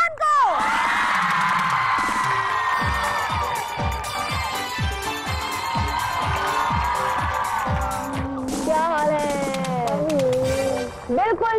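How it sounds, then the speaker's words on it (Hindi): A studio audience on a Hindi television show cheers and whoops for an arriving guest actress, lively and close, mixed with music and a steady thumping beat for about eleven seconds. "तो आपकी बहुत सारी तालियों में बुला रही हूँ मायरा खान को"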